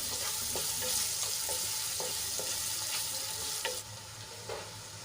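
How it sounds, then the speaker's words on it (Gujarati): Finely chopped onions sauté in a hot pan, giving a continuous loud sizzle broken by several sharp scraping stirs at regular intervals, with no speech. "ડુંગળીને આપણે ગુલાબી રંગની થાય ત્યાં સુધી સાંતળી લેવાની છે"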